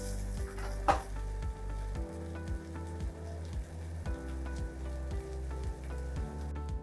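A roast sears in a hot pan with a steady, close sizzle, partly masked by a louder rhythmic music track running throughout.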